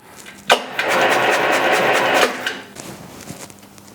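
A Pius die filer with an adjustable stroke starts up and runs for under two seconds with a dense, rapid mechanical buzz, then winds down to quiet.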